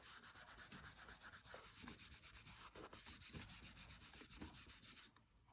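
Quick rhythmic rubbing strokes blend a pencil drawing on paper, a fast steady scratchy back-and-forth that stops near the end, close and quiet.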